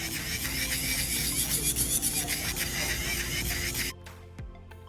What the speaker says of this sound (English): So we are finished up with the filing and the drilling.